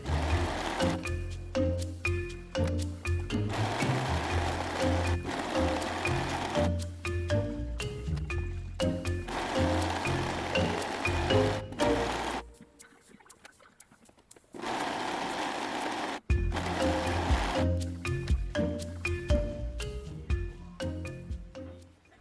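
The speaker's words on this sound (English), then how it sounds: "Then you'll want to serge the edges" A serger overlocks the edges of fabric for pajama boxers and pants, its fast even whir running close and steady in long bursts, stopping briefly in the middle and then starting up again.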